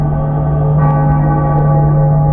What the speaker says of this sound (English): Bells were cracked too. Gave off this eerie, atonal clang.